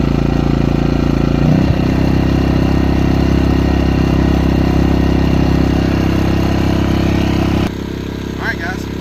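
A generator engine running steadily and loud at close range, with a clatter near the start and a drop in level toward the end as the revving shifts.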